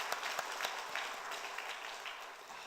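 Congregation applauding during a Sunday church service in Korea, a soft, steady wash of distant clapping lasting a few seconds.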